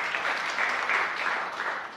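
Loud, sustained applause from a church congregation praising Jesus during a pastor's sermon, a dense steady patter of many hands clapping without pause.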